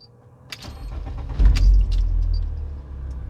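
A car engine starts and settles into a steady idle with the air-conditioning running normally, a sharp transient opening the start and a strong low rumble swelling midway, close and alone with no talking.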